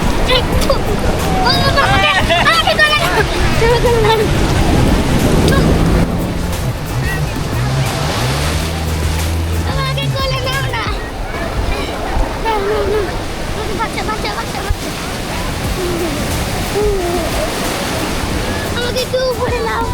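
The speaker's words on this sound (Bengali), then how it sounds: "মোটামুটি একটা বড় ঢেউ আসছে" A big sea wave surges in at Cox's Bazar beach, a loud, roaring rush of surf with gusty wind buffeting the microphone and voices carrying over the water.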